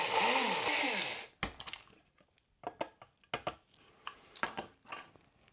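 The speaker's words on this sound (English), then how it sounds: "I'm going to go ahead and just grind this up and add it back into these." Dried, extracted vanilla beans are ground for vanilla sugar: a loud whirring grind lasts about a second, followed by scattered sharp clinks, taps and rattles of containers and utensils.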